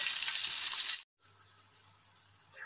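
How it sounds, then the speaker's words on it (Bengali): Cauliflower frying in a pan makes a loud sizzle that cuts off abruptly into a short silence. A much fainter hiss follows, then a brief swell of sizzling near the end. "আমি ফুলকপির ভাজাটা কমপ্লিট করি"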